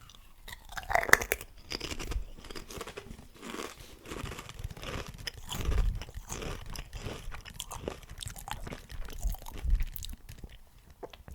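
Someone eats crunchy salt and vinegar Pringles crisps close to the mic, with irregular sharp crunches and bites followed by softer chewing and the odd crinkle, quiet and intimate, no talking.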